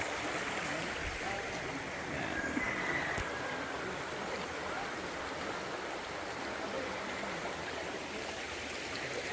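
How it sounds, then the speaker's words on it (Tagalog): A clear river at the boundary of Siniloan and Real, Quezon flows with a steady, broad rushing wash, close and continuous throughout with no talk. "So, ito yung ilog niya."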